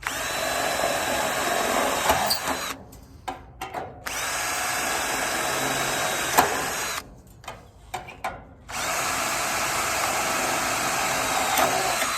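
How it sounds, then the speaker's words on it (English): A power drill whirs in long steady runs drilling rivet holes in wall splicers, stopping twice briefly with small clicks and knocks between bursts, close and loud. "you can just go along and drill all the holes in and then just put all the rivets in"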